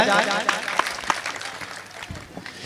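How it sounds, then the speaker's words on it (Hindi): Audience at a Hindi poetry recital clapping, a fairly close burst of applause with some scattered vocal sounds that thins out over a few seconds. "चलिए एक बार जोरदार तालियां बजाइए।"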